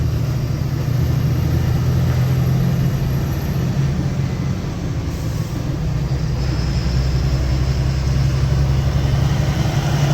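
Cars and bikes idling in a stopped traffic jam, a steady low engine drone that stays close and constant throughout, with no one speaking.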